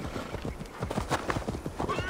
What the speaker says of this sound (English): Let's call the horse.